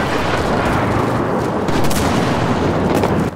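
Dense, continuous gunfire and explosions in a World War II shooter video game, loud and close, with a constant wash of shots and booms that never lets up.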